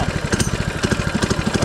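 A small FRP GMB 100 retro mini bike engine fires up and catches, settling into a rapid, even chugging putter, close and moderately loud, with no talking.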